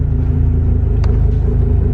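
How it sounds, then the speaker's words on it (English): A manual car pulls away in first gear with a steady, loud, close engine rumble and a brief light tick partway through. "as soon as I start to feel the car start to creep forward, I'm going to start to give it some gas"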